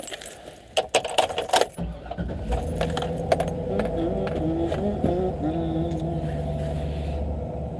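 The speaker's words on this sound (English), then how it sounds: "I had to turn this truck on." Keys jangle loudly and unevenly close by, then a truck's engine cranks and settles into a steady low idle rumble that holds to the end.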